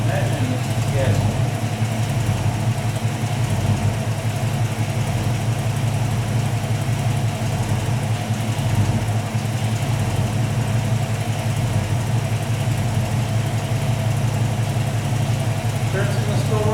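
A 347 stroker gas V8 in a 1967 Mustang idles steadily at close range, a dense, even rumble with a slight lope that carries on unchanged throughout, with speech mixed in.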